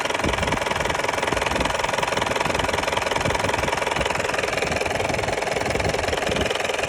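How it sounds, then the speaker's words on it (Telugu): A 2.2 litre car engine idles with a dense, constant mechanical drone and fine rapid ticking, loud and close, with no talk over it. "ఒకసారి మనం ఇంజిన్ నాయిస్ని కూడా అబ్జర్వ్ చేయొచ్చు."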